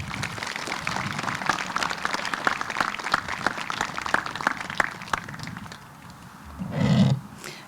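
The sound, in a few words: audience applause for the teacher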